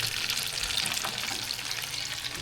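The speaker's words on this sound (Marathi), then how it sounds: "आता आपलं पापलेट फ्राय आणि तंदूरी फ्राय" Pomfret fish frying in a pan, a steady dense sizzle with crackling throughout, close and continuous, no voices.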